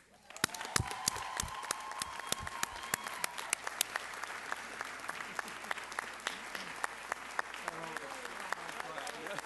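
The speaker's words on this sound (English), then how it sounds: "So I ask that you join me in a round of applause for my esteemed colleague" A commencement audience applauding at a college graduation ceremony, sustained clapping from a large crowd with sharp individual claps and some voices mixed in.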